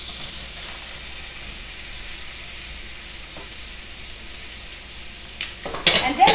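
Pre-sliced mushrooms cook in butter in a pan, a soft, steady hiss close by, ending in a few louder clatters and scrapes of a utensil against the pan.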